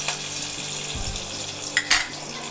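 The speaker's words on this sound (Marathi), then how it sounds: "तेल तापलं आहे आपलं. कढीपत्ता घालते आहे." Curry leaves hit hot oil in a pan with a steady frying hiss and a few brief crackling bursts near the end, close and moderately loud with no talking.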